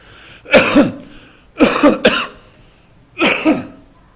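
A preacher coughs three times during an afternoon sermon at a church summer revival meeting: short, rough bursts about a second apart, close and fairly loud, with no speech between them.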